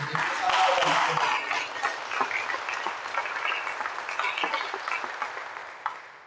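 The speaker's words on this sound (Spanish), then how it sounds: "Un fuerte aplauso, Señor, porque Dios ha dado la victoria." Loud applause from a church congregation at a Spanish-language prayer service, starting as a dense burst of clapping and thinning out slightly over several seconds with scattered voices mixed in.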